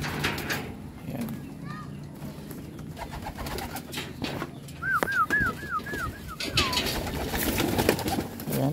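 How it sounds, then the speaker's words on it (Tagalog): Breeder stock pigeons cooing in a loft, a short series of soft repeated coos in the middle, under someone talking and some clattering background noise. "Itong mga breeder natin, mga stock bird natin mga boss."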